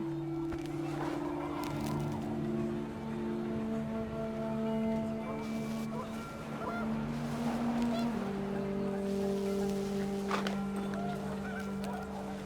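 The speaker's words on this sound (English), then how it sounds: "The wind picked up, and panicked geese appeared and quickly went." Panicked geese honk repeatedly in What Remains of Edith Finch, a steady overlapping chorus of loud calls over windy outdoor ambience.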